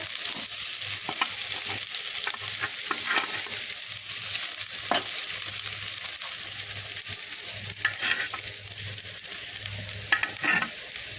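Pieces of fried rui fish stirred into mustard oil masala in a hot pan, a steady close sizzle of frying with intermittent scrapes and taps of a spatula, continuous and moderately loud with no talk.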